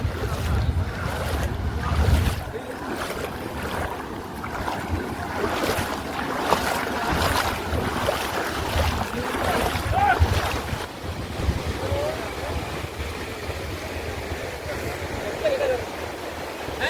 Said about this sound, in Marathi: म्हणजे समुद्रामध्ये होडी घेऊन चालले